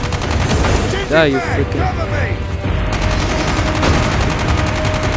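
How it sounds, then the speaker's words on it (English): Rapid gunfire in the zombies mode of the Call of Duty video game keeps up throughout as dense, loud bursts, with a player shouting over the shooting. "I'm gonna shoot you."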